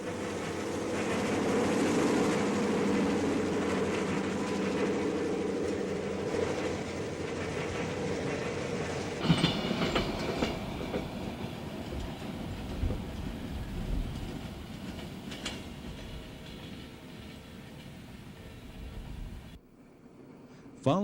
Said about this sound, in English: As DS-11 rolls past the Milan Tower